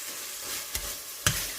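Browned minced meat keema fries in separated oil with a low steady sizzle, broken by two sharp spoon taps against the pan, close and fairly quiet, with no voices.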